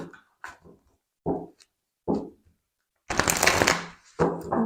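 Oracle cards from the Voyageur Sacré deck being shuffled and drawn: several short, soft riffling bursts, then a long, dense, close flurry of card shuffling, with no talking.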